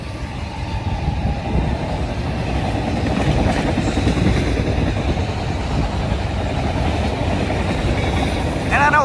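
A CSX freight train rolls past on the L&N line with a loud, continuous rumble and clattering of wheels over the rails, sounding close by throughout.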